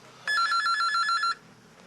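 A telephone rings once in a comedy sketch, a bright electronic trilling burst lasting about a second before stopping, loud and close.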